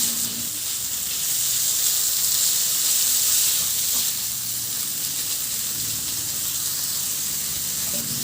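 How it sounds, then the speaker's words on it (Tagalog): Small chopped chicken pieces sauté with onions in a hot pan, giving a steady, close sizzle and hiss that holds throughout with no talk over it. "Ito na yung ating chicken na hiniwa ko lang ng maliliit. Isabay na rin natin sa paggisa."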